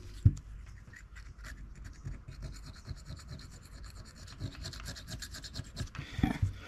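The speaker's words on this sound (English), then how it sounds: "Let me scrape off that gasket material." Scraping old gasket material off the carburetor of a 1996 Club Car DS gas golf cart, a close, quiet, rasping scratch in uneven repeated strokes with a few louder knocks.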